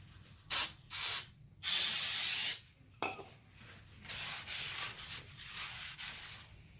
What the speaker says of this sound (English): I'm going to spray a little bit of carb or brake cleaner on that rotor